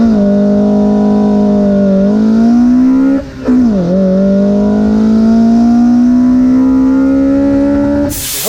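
Toyota AW11 MR2 with a 4A-GE engine accelerating hard from a standstill in a 0 to 60 run, a loud close rising engine whine, one quick gear shift dip midway, then climbing revs again.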